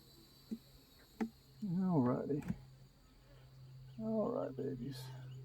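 A steady, droning buzz of bees around a nectar-filled hive hums throughout, with a person speaking briefly over it twice.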